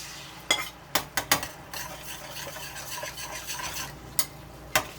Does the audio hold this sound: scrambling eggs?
yes